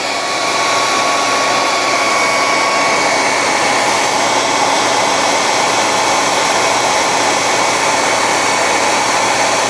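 A heat gun blows steadily and loudly close by as it warms a part from a 1/72 Sinanju plastic model kit, a continuous even roar with a faint whine running the whole time, no voices.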